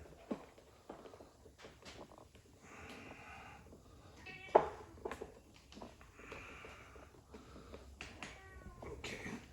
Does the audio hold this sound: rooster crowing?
no